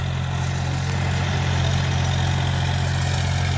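A John Deere 5050 D tractor engine runs steadily nearby, a constant low diesel rumble and throb with no change in pace, loud and alone without any talking.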